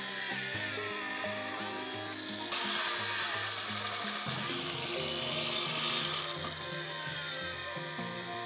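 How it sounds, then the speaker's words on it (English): Cordless drill boring holes in metal, a continuous loud whine with shifting pitch and grinding, close and alone throughout. "I drill holes, and cut a thread in them with a tap"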